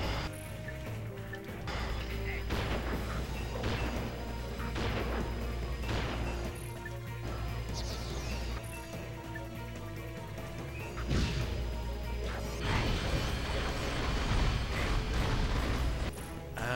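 Bombs bursting in the Ratchet and Clank: Up Your Arsenal video game, a run of repeated crashing impacts over steady game music and mechanical background noise.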